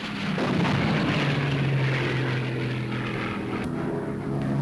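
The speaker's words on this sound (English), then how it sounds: "Here goes a radio-controlled pilotless plane." A propeller aircraft drones steadily and loudly throughout, the engine tone holding even, heard near at hand as a radio-controlled pilotless plane is launched by steam catapult from the aircraft carrier HMS Perseus.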